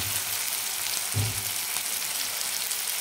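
Masoor dal with chili sizzles steadily in a pan as it is sautéed, a continuous crackling fry with one brief low clatter partway through, no talking.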